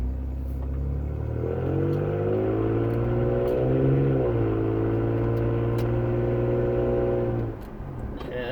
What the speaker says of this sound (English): Yeah, that's normal acceleration.